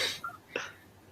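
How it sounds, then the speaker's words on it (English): A single short cough, fairly quiet and close, followed by a brief throaty burst. "she coughed"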